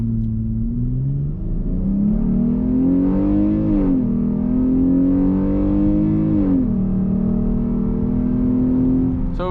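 V6 Jeep accelerating from a stop at quarter throttle without sport mode, the engine note rising through several gear changes, each shift marked by a dip and climb in pitch, loud and close.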